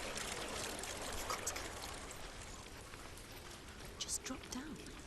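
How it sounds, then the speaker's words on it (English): Steady rushing, pouring water from the video game Hellblade: Senua's Sacrifice fills the scene as a continuous wash of noise, with faint voices speaking over it. "Good sound effect right there. Better sound effect than the actual graphic portrays the water."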